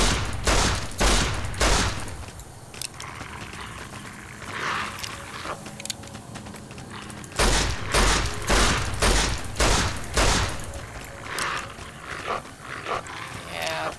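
Pistol shots ring out in Fallout: New Vegas, with sharp cracks in quick clusters, a pause, then another run of shots. Creature snarls and game sounds mix in between.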